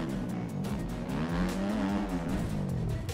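A stock Kawasaki dirt bike engine in the MX Bikes video game at Paleta Raceway, revving loudly and continuously with a rising and falling pitch as the throttle shifts, alone with no talk.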